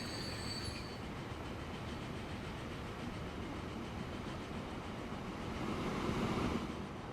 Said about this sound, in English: Oh, because mainline train's going out.